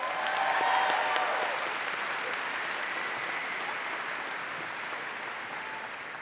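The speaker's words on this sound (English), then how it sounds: "Let's give Byron another round of applause." Sustained applause from a large audience at a college graduate hooding ceremony, a dense steady wash of clapping that swells at first and then slowly fades, heard alone without speech.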